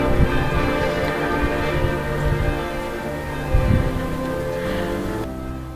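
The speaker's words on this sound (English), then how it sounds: "The Queen's father gave order to ring the bells and have a service of gratitude in church" Church bells ring on without pause in Germany, their overlapping metallic tones forming a full, steady peal at moderate loudness with no voices.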